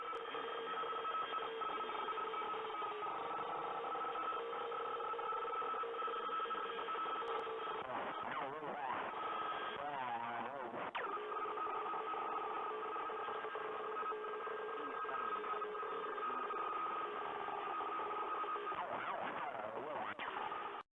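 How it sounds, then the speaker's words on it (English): Radio static plays while the animatronic Mangle is in the office in Five Nights at Freddy's: a continuous crackly, band-limited hiss with warbling tones and garbled fragments that swell in places, steady and sustained throughout. "when Mangle's in the office, radio static can be heard and the static may have a decrypted message"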